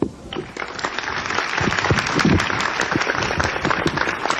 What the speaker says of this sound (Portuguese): Receba as palmas de Toritama.